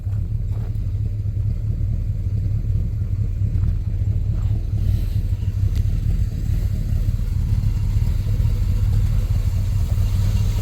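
A 1966 GMC pickup truck engine runs steadily at idle, a loud, even low rumble with a constant hum that holds without revving.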